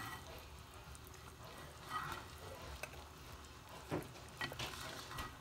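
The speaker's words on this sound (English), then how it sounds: "It's come up to temp, it's come up to boil." Sugar syrup for candy apples bubbles in a pot on the stove, a soft, low sizzle broken by a few brief clinks and scraping stirs, close by and fairly quiet, with no talking.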